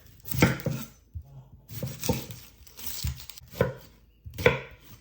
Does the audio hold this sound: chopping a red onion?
yes